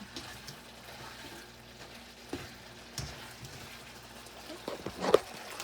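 A stir fry in a pan with a thickening sauce gives a soft, steady sizzle, broken by a few light utensil taps and a louder clatter near the end.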